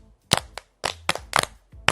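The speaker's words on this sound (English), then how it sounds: "Give her a round of applause." A class applauds Jacqueline in an animated film, giving several separate bursts of sharp claps, each brief and crisp, spaced apart with short silences between.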